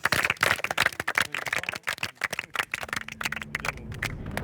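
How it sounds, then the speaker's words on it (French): Applause for a contestant on the French game show Tahiti Quest: a small group clapping in sharp, uneven bursts, fairly close, thinning out toward the end as a low hum comes in. "On peut l'applaudir, bravo"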